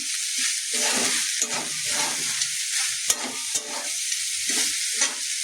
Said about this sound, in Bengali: সঙ্গে একটু মশলা, নাড়ানাড়ি করে নিই।